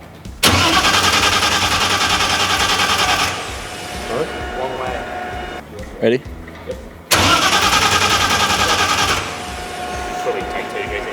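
A full carbon Roll Racing Nissan R32 GT-R race car cranks for its first start, with loud bursts of whirring and roaring separated by short pauses, close up, and people speaking briefly in between.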